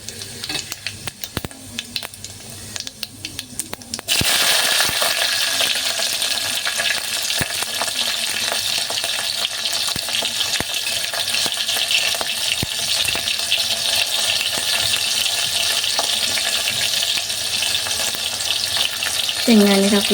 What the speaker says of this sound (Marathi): एक छोटा चमचा जिरं टाकूया फोडणीला. जिरं तडतडलं की मिरची घालूया.